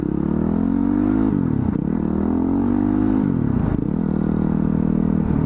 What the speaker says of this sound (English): you can't beat the sound of a frickin' V-twin. It's my favorite sound.